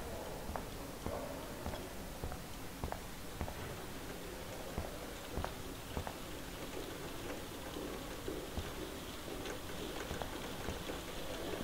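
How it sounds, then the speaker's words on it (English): Rain falling outdoors in the Life Is Strange video game, a continuous hiss with scattered sharper drips and ticks throughout, steady and moderately loud, no voices. "Oh look, it's raining outside"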